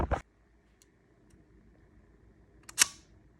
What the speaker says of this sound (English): I have the rear plate on right now to test shutter function.